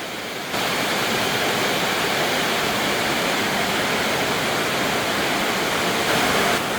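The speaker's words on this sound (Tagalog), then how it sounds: "Umuulan na naman." Steady heavy rain pours down in a dense, even hiss that continues unbroken throughout, with no voices.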